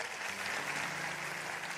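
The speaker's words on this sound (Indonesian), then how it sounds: "Berikan tepuk tangan untuk Tuhan Yesus." A church congregation applauding at the end of a sermon, a soft, distant, continuous patter of many hands with no voices over it.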